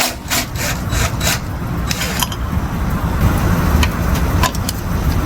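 An open-end wrench working bolts loose on a Cub Cadet ST 100 mower, with a series of short metallic clicks and ratchety rubbing scrapes over a steady low rumble of background noise.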